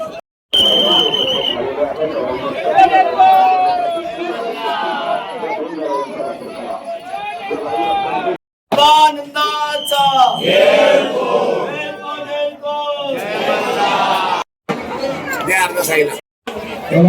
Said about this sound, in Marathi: एवढी गर्दी आहे.